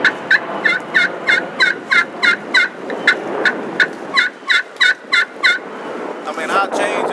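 Repeated turkey calls from several birds, a rapid series of sharp, loud gobbling notes in quick bursts with brief gaps, ending in a rougher, rattling gobble.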